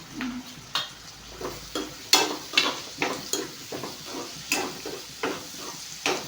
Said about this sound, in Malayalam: ഇത് നന്നായിട്ട് ഇളക്കി കൊടുക്കണം.